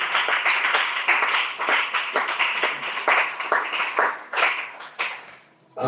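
A church congregation claps and applauds together for several seconds, a dense rhythmic burst of many hands that fades out near the end.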